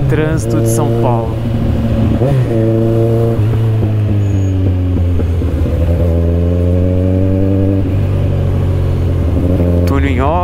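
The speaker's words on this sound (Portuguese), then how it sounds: "O famoso trânsito de São Paulo." A Kawasaki Z1000 motorcycle idles and creeps through São Paulo rush-hour traffic on Avenida Rebouças, its engine a loud, close, steady drone whose pitch shifts as the throttle changes, with revs rising near the end.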